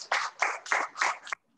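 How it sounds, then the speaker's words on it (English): A small audience in a school meeting room claps for an award-winning teacher, several short bursts of hand clapping in an uneven rhythm that stops abruptly. "For the Atal Tinkering, give them a big applause for that."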